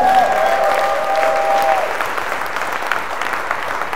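A church congregation applauding to acclaim God: a dense, steady wash of clapping hands that fills the room for the whole stretch, with a brief sustained tone sounding over the start.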